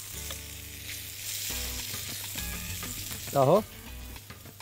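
Eel pieces sizzle in butter in a pot as an Egyptian eel tagine is prepared, with a steady frying hiss, occasional stirring, and a brief spoken phrase near the end.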